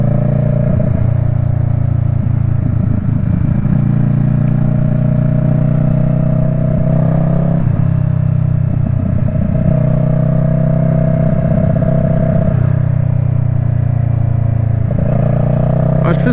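A motorcycle engine runs steadily and loud throughout a ride near Lauzerte, a low droning hum with slight shifts in pitch, while someone talks over it.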